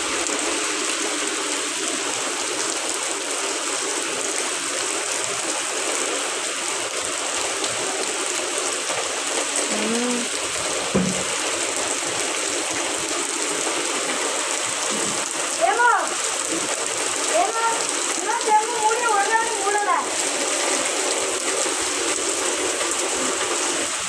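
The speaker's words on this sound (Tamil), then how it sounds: "மழை." Steady rain falls outdoors as a continuous broadband hiss throughout, with people talking faintly over it in the second half.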